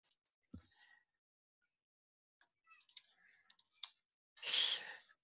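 A computer keyboard is typed on in sparse, quiet bursts of clicks separated by silent pauses, ending with a brief louder rustle.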